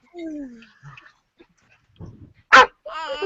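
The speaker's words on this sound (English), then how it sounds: "our dogs are terrorizing each other. So thus the barking." Dogs squabble nearby, giving a sharp bark and a whining yelp between quiet whimpers, with a brief voice in the background.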